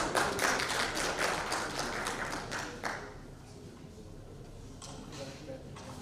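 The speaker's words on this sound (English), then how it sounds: "huge round of applause for our worthy moderator, Dr. Munir Ashraf" Conference audience clapping for a panel moderator at an international textiles conference, a dense burst of hand claps that thins out after about three seconds into scattered taps and room murmur.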